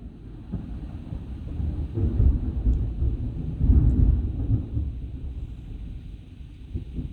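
Low thunder rumbling after a lightning flash, a loud, deep rolling rumble that swells twice and then fades, heard indoors without any talking.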